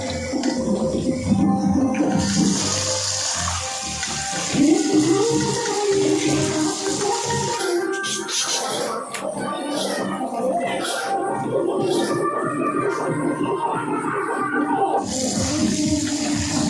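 Chopped mutton fat rinsed under a running tap, a steady rush of water with clattering handling sounds throughout, nearby and fairly loud.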